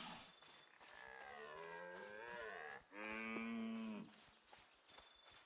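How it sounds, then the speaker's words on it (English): A cow in the video game Pax Dei moos in two long, loud, drawn-out calls with a short gap between them, heard alone without any talk. "Sounds like a goddamn cow."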